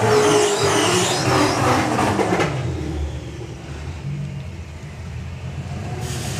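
Drag racing cars, including a Phantom Corrado, roar past at a strip, a loud broadband engine rush that fades into a steady distant rumble of the track.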